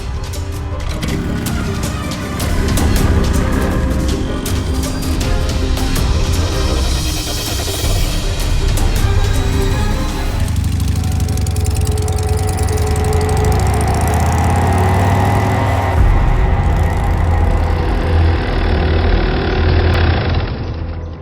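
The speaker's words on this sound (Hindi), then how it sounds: "बाइक स्टार्ट करो।" A motorbike engine starts and runs loudly close by, a rough mechanical clatter settling into a steady, throbbing mid-pitched idle with changing revs for about twenty seconds.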